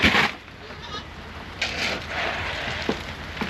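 Goats on a flooded farm give a few short, moderately loud bleats over a steady wet background of rain and water.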